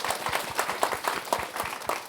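Audience applause at a corporate job talk Q&A session, a steady burst of many hands clapping together for about two seconds with no talking over it.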